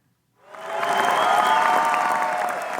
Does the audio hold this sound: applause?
yes